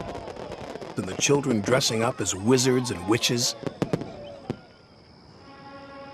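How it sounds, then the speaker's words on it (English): Fireworks burst with sharp cracks and bangs on Halloween on the Island of Sodor in an animated Thomas the Tank Engine story, several pops scattered under a narrator's speech before fading out. "They love Sir Topham Hatt's fireworks"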